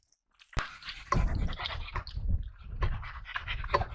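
Dogs outdoors on a rocky edge in the Peak District pant in quick, close bursts after a sharp knock, the breathy rhythm continuing unevenly throughout.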